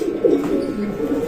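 Racing pigeons imported from Thailand coo nearby, a soft, low, throaty burbling that rises and falls in a short continuous phrase.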